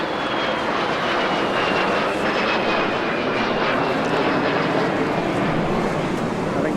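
A de Havilland Vampire FB.52, the twin-boom jet powered by a Halford H1 Goblin turbojet, flies at the Eastbourne Airshow 2025, its loud steady roar filling the whole stretch with a thin whine running above it.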